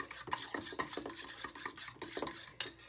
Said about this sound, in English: Now one egg. Just mix that up. Make sure it's well combined.